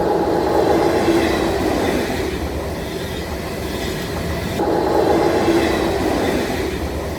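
A train rumbles steadily with rolling wheel noise and rail clatter, loud and continuous throughout, with no voices.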